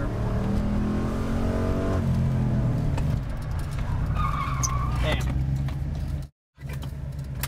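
Stunt car skids across pavement at a stunt driving school, a steady loud tyre and engine roar lasting several seconds with a brief dropout near the end, a voice briefly audible underneath.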